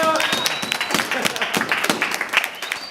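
A crowd at Golden Gloves Gym, a Liverpool boxing gym, claps and cheers for a champion boxer, steady dense applause with voices calling out over it.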